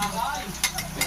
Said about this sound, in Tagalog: Lagyan na po natin ng bawang. Pati po yung sibuyas.